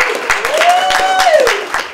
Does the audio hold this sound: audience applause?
yes